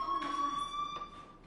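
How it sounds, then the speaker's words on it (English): A fire alarm rings in the Life Is Strange game, a steady electronic tone that holds for most of the moment and fades slightly toward the end. "do you hear that fire alarm? That means you should be outside."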